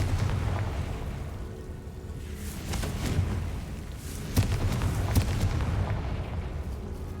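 Confringo blasting spells go off in a Harry Potter video game, producing rumbling explosive booms with a couple of sharper bursts over a continuous low roar, and nobody speaks.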